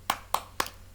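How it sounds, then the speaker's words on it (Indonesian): Hands clap in an even rhythm for an Al-Fatihah clap chant, three sharp, evenly spaced claps heard close with nothing else over them. "Tepuk surat Al-Fatihah"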